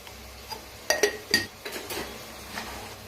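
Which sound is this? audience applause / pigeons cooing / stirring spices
stirring spices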